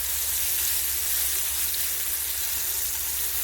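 Fish fries in hot oil with a dense, steady sizzle and crackle that holds constant and loud throughout, with no talking.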